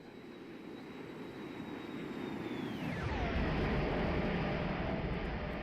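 Airbus A321neo engines with LEAP powerplants in a flight simulator roar past during a flyby, a loud broadband rumble that swells and shifts downward in pitch as the jet passes close.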